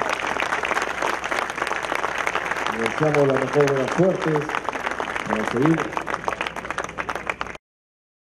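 Sustained clapping from a crowd at an anniversary celebration in La Molina, honouring a sports idol receiving a medal, running steadily under someone speaking over a microphone before cutting off.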